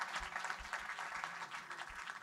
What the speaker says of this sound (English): Please, a round of applause for His Excellency, Vice President, Professor Yemi, please.